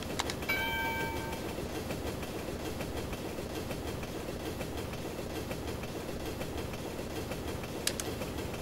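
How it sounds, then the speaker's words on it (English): Rolling train noise from the Sensible Train Spotting video game on Amiga, a steady rumbling clatter that stays loud and continuous, with a brief high squeal near the start and a sharp click close to the end. "There's not enough trains in that time."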